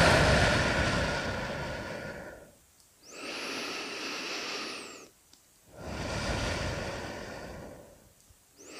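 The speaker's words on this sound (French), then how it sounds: "J'inspire." A slow, deep breath drawn in during a guided sophrology relaxation session, a long airy rush set between other breaths and pauses, close and alone with no talking.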